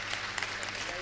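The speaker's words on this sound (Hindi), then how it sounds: "जोरदार तालियां बजाकर हम उनका स्वागत करेंगे।" Brief burst of audience applause welcoming a guest at a gathering, a dense hiss of clapping lasting about a second at moderate level, with a low hum running underneath.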